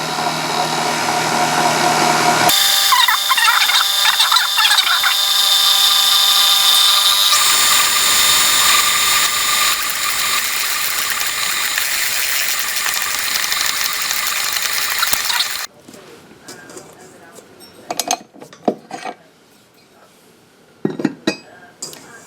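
A stand mixer kneads English muffin dough with a loud, continuous mechanical whir and grinding drone. It then stops abruptly, leaving a few scattered clinks and light handling noises.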